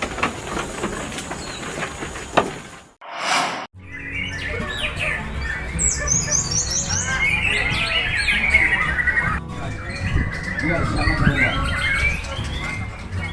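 Songbirds of the kind kept as pets in Indonesia chirp and twitter in quick high bursts over a steady broadband rumble, continuing after a brief pause early on.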